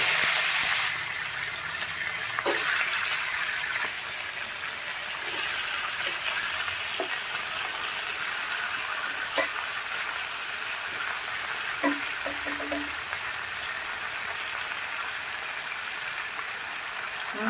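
Chicken pieces go into a hot kadai and fry with a broad, steady sizzle, dotted with small pops and crackles that hold at an even level throughout.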